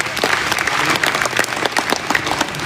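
An audience at a religious discourse in a village claps, a short burst of scattered, uneven hand clapping of moderate loudness lasting a few seconds.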